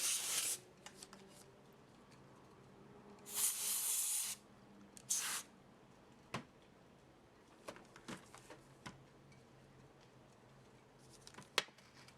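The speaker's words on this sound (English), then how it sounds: "I'm just using the canned air as well to blast any little bits of dust out from inside the buttons." Canned air blasts dust from inside game controller buttons in short, quiet hissing sprays, one longer burst in the middle, with soft clicks and handling taps in between.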